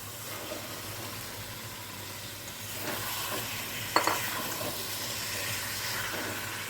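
Fried shol fish with potatoes and spices is stirred and sautéed in a pan, giving a steady close sizzle with scraping stirs and a sharp clink of a utensil partway through.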